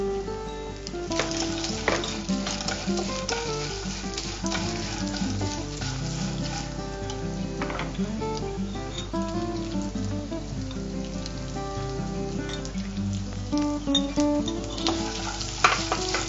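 Peanuts and roasted gram sizzle and crackle in a hot pan while being stirred, a steady close frying hiss with scraping stirs throughout.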